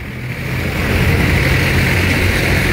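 Motorcycles pass along a busy one-way street in Malabon, a loud, continuous engine wash with a steady rising presence and no talk over it.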